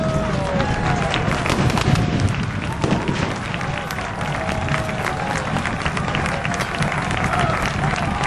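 An outdoor crowd applauds at a historical battle reenactment, steady dense clapping running throughout over general crowd noise and voices.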